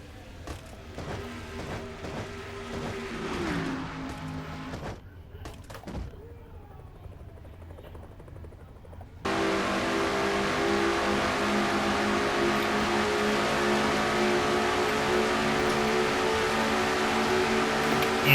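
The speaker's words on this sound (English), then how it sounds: "Now they drag race down the front stretch with Matthews having a slight advantage by about almost a full car length over Collard." Race car engines roar and drone in a NASCAR-style racing video game, first a shifting mechanical rumble with clunks, then a sudden jump to a loud, sustained multi-car engine blare as the field runs down the front stretch.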